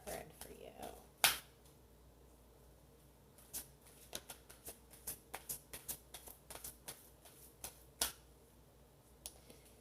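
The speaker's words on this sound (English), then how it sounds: "let's get a Rumi card for you" Oracle cards from a Rumi deck are handled and drawn, giving a sharp snap followed by a string of quick crisp flicks and taps, close and fairly quiet.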